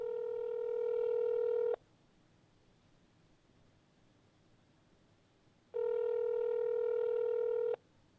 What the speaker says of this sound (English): So I'm making a call now.